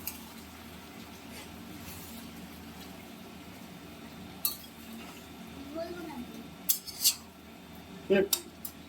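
Garlic being stirred in a cooking pot in a home kitchen: a quiet bubbling simmer with a few clear metallic clinks and scrapes of a utensil against the pot, clustered toward the end.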